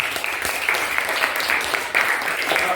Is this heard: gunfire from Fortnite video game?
no